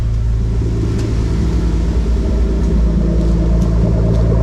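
A Nissan R33 Skyline engine idles slightly high at around 1100 RPM just after a new ECU and sensor install, a loud, steady low rumble heard close and without talk.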